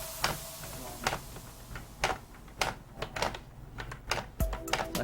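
Typing on a computer keyboard during a typing speed test, sparse irregular key clicks and taps, fairly close and quiet against a faint room hum.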